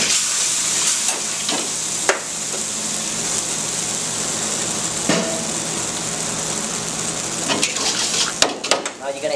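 Egg foo young gravy being whisked in a hot pan, a steady sizzling hiss with scraping whisk strokes and occasional clinks against the metal, close and continuous.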